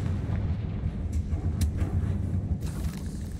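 A Confringo fire spell blast in Hogwarts Legacy, a deep rumbling explosion with a rolling low boom and crackling debris that sustains through the short moment, with no speech over it.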